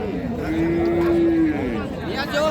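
A Sahiwal-breed calf gives a single drawn-out moo, close and clear, with faint background noise around it.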